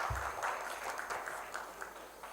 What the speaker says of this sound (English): A big round of applause for him as well